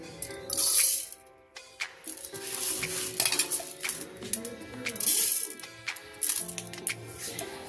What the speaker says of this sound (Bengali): এই মিক্সির জারে চালগুলো দিয়ে দেব